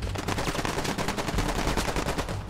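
Rapid automatic gunfire in the tactical shooter Squad, dense overlapping bursts of shots that carry steadily and loudly throughout with no gaps.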